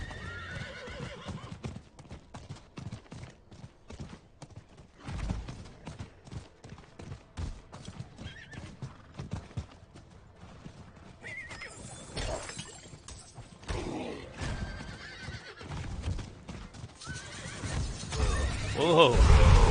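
Horse hooves clip-clopping steadily in Diablo IV, with a whinny and combat clashes breaking in, all under someone talking.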